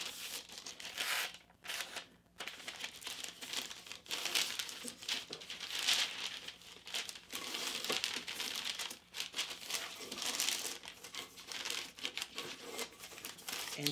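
Decoupage paper is handled and shuffled continuously, giving soft, steady crinkling and rustling that runs throughout, close and fairly quiet, with no talk.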